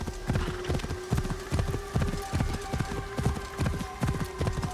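A horse in a video game gallops with rhythmic, evenly spaced hoof clip-clops, loud and close, repeating steadily throughout.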